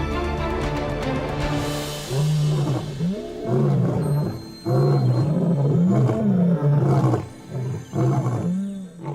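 The Nsefo brothers, two adult male lions aged eight, roar in deep, repeated, rhythmic bursts, loud and close, with the calls overlapping and then fading into grunting pauses.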